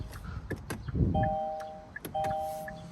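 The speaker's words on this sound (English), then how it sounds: "It is going to chime on the inside because the car is technically on" A 2022 Kia K5 LXS sounds its interior warning chime while in accessory mode, two sustained electronic tones heard inside the cabin amid soft clicks and rustling, with no voices.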